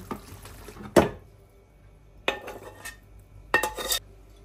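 Cooked food tipped from a pot into a serving dish: three separate bursts of scraping and clattering metal against crockery with wet sliding sounds, quiet pauses between them, close by.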